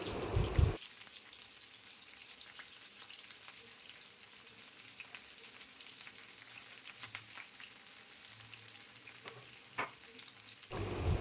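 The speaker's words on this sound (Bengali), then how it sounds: "পেঁয়াজ, কাঁচা লঙ্কা হালকা করে ভেজে নেব।" Garlic, chopped onions and slit green chilies frying in oil for a lote fish curry, a soft continuous sizzle with scattered pops and stirring scrapes, a louder clatter at start and end.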